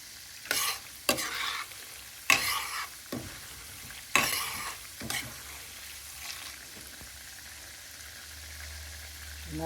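Tomato pickle ingredients fry on medium heat, with a soft sizzle under a handful of loud, separate stirring scrapes that thin out toward the end; no voices.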